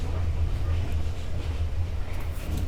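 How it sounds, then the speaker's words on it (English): Inside a sleeper train cabin on the Hanoi to Hue line in Vietnam, a steady low rumble of the moving carriage with faint rattles runs throughout. "So I'm on this train."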